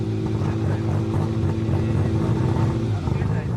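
An RB26-powered drag car with twin RPEX RX6 turbos making nearly 1,000 horsepower, at the high-altitude Sendai Highland drag strip, holds a loud, steady, throbbing engine rumble close by throughout, with voices faintly underneath.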